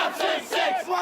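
Large crowd of Raptors basketball fans at an outdoor tailgate party cheering and yelling in loud rhythmic surges, close and energetic, with no other sound standing out.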